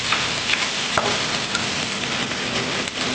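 Salted egg sisig sizzles hard on a hot sizzling plate, a dense, steady crackle and hiss with small pops throughout and no voices.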